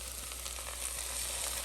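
Canned beans go into a hot pan and sizzle with a soft, continuous hiss, fairly quiet and steady over a low hum, with no talking.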